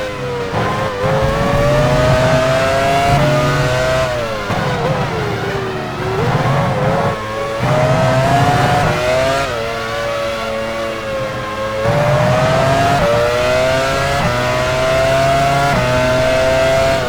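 Formula 1 car from F1 Challenge 99-02, 2002 German Grand Prix at Hockenheim, driving into the pit lane; a steady, loud engine drone with rising and falling pitch sweeps runs throughout, no voices.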